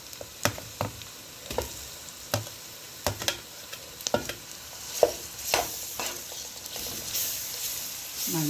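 Frozen ginger and garlic fry in a pan, a quiet sizzle punctuated by repeated sharp taps and clicks of stirring, close and fairly soft.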